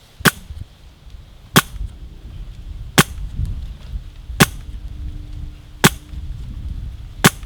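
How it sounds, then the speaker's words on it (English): A Wolverine Wraith CO2 air rifle fires six sharp, loud shots at a steady pace a little over a second apart, with faint low hiss and rumble of the regulator recharging between shots. "there's an audible sound of the regulator charging"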